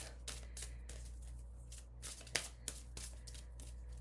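Oracle cards shuffled by hand during a full moon reading, giving a series of soft rapid riffling bursts with a few sharper snaps, quiet and close over a steady low hum, with no talking.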